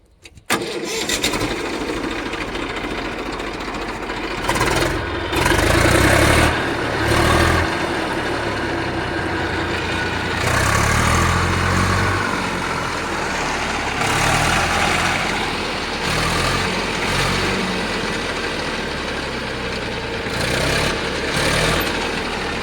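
An Eicher 333 tractor engine starting and running, a loud, rough diesel rumble that surges and settles in repeated revving bursts over a steady chugging idle, close by with no talk.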